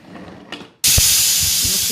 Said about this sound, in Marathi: मस्त शिट्ट्या होत आहेत।